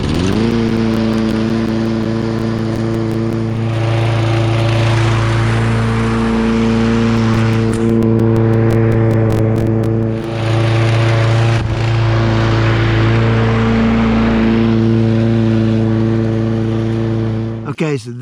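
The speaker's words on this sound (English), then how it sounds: "But let's mow this bluegrass right now." Push lawn mower running through a Kentucky bluegrass lawn renovation plot, a loud continuous engine drone with steady humming tones that dip briefly as it works the grass.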